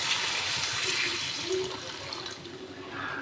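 Steady rushing water pours continuously into a pan, a full splashing stream throughout with no talking.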